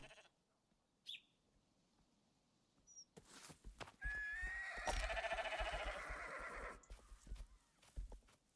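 A horse in the video game Rising World lets out a loud, wavering whinny in the middle, alone with no talk, after a few faint earlier sounds. Scattered hoof thuds follow it.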